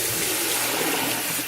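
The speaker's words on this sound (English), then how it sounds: "And I'll fill it back up with hot water." Hot water gushes loudly and steadily into a container at close range, a dense rushing pour with no voices.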